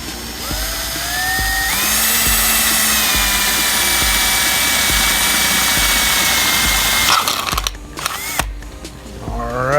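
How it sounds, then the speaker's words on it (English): A small cordless drill bores a starter hole for a carpenter bee trap, a loud, steady whine climbing in pitch for several seconds before cutting off into a few clattering knocks. "I'm trying to get a starter hole going here"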